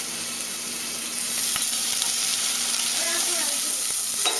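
Sliced onion and a clove of garlic fry in a pan with a continuous close sizzle that grows a little louder partway through, joined by a few faint clicks and scrapes.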